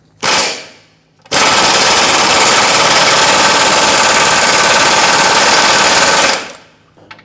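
Removing a lower control arm bolt on a 2012-2017 Hyundai Accent brings a brief rattling burst, a pause, then a long, loud, rapid mechanical hammering that runs for about five seconds before stopping.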